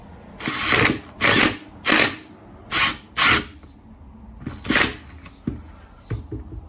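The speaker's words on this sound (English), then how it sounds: "coming back in with my impact wrench." An impact wrench tightening the gear stick mechanism on a classic Fiat 500 rattles in short, loud bursts, about seven rapid hammering runs separated by brief pauses, close and clear in a quiet workshop.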